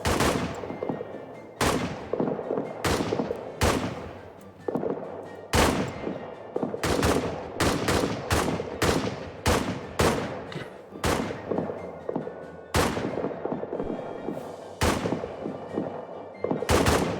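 Rifle shots crack one after another from riflemen defending a WW1 trench in a strategy game, loud and near, firing in an irregular steady stream across the whole stretch, sometimes close together, sometimes spaced a second or so apart.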